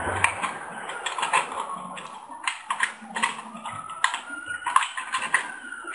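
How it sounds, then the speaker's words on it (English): A tin can being cut around its side to remove a half-inch section, giving a close run of small clicking, crunching metal snips and ratcheting bites in an irregular rhythm. "we're going to cut off a section of this can, probably about ½ inch. We're going to cut it all the way around."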